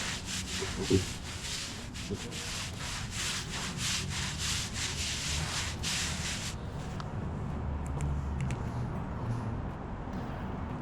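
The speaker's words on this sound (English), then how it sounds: "Back to scrubbing with a little more elbow grease." Stiff brush scrubbing an oil stain out of asphalt with firm, rapid back-and-forth strokes, loud and close for about six seconds, then easing into softer, scattered rubbing.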